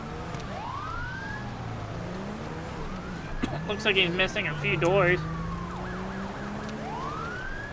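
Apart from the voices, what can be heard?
police car siren in LSPDFR video game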